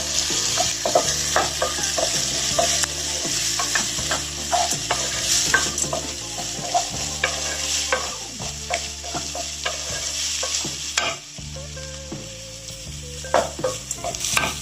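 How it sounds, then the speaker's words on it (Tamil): Onions sizzle and sauté steadily in a hot pan, with repeated stirring scrapes and clinks throughout; no one speaks. "வெங்காயம் வதங்கிடுச்சு"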